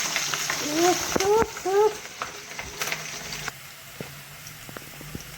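Garlic and green chillies sizzle and fry in hot oil in a home kitchen, a steady crackling hiss that fades to quieter sputters, with someone talking over the first half.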